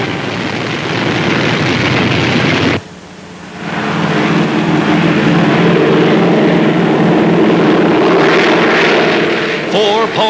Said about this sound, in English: Four powerful engines lift the Sky Giant aloft.